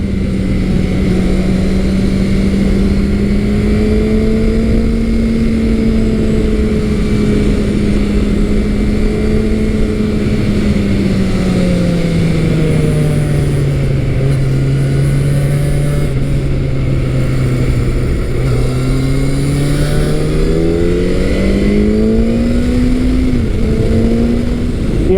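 A Yamaha FZ1 sport-standard motorcycle hums steadily up close as it rides through twisty roads, engine pitch swelling and sagging through the bends over constant wind noise, with no talking.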